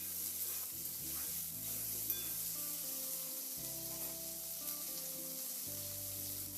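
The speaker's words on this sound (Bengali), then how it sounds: "এবার আলু আর ছোলা এই পর্যায়ে খুব ভালো করে একটু নাড়াচাড়া করে ভেজে নিতে হবে" Potatoes and soaked chickpeas fry in a pan with a steady, moderately loud sizzle, broken by occasional stirring scrapes, while faint tonal music plays underneath and no one speaks.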